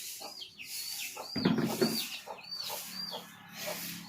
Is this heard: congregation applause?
no